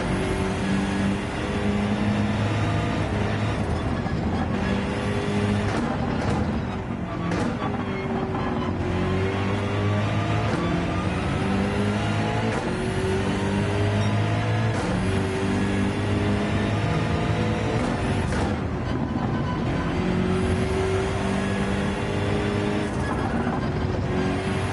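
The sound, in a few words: race car driving a lap in Gran Turismo 7 video game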